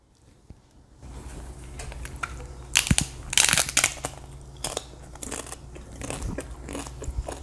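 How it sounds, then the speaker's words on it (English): Crunchy bites into a homemade ground beef and cheese taco in a crisp shell, a run of loud close crackling crunches followed by steady chewing. "You mainly get this flavor of this beef, this ground beef, and cheese together with that crunch of the taco shell."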